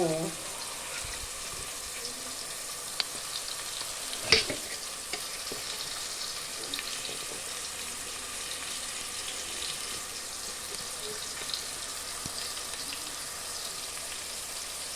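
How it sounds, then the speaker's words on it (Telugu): Onions and tomato fry in a little oil and ghee in a pan for chicken biryani, making a continuous soft sizzle with a sharp metallic clank partway through and a few faint knocks. "ఉల్లిపాయలు వేగినాయండి, టమోటా వేసాను."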